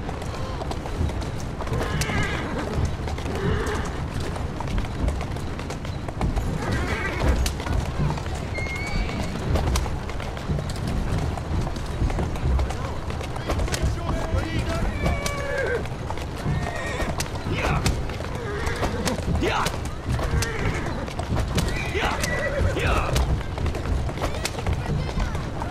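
A horse in the video game Assassin's Creed Syndicate whinnies repeatedly over a continuous clatter of clip-clopping hooves at a run, with game voices speaking over it.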